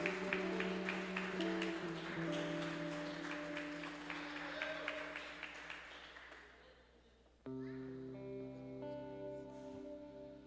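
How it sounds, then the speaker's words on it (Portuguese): A church congregation applauds loudly at first, then the clapping fades gradually, giving way to a sustained keyboard chord. "Queria que a igreja aplaudisse a Jesus pela vida do pastor Roberto."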